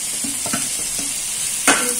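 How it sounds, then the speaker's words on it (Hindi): Chopped tomato and green chillies sizzle in a pan of okra stir-fry, a constant hiss broken by a few scraping stir strokes and one sharper clatter, close and with nobody speaking. "और हम डालेंगे 1 टमाटर कट किया हुआ, हरी मिर्ची भी डाल देंगे"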